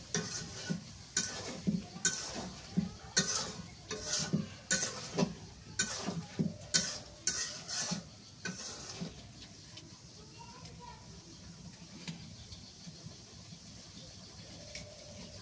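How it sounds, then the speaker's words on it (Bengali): Chicken pieces being sautéed and stirred in a pan for a kaita chicken curry, with rhythmic scraping strokes of a spoon over a soft sizzle, busy for several seconds before settling into a quieter steady fry. "মুরগির মাংসটা ভালো করে কষাই নিলাম"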